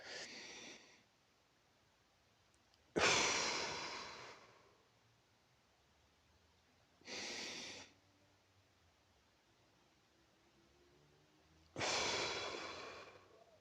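Four slow, deep breaths in a paced breathing exercise, each a loud close airy rush of inhale or exhale lasting about a second, separated by long quiet holds.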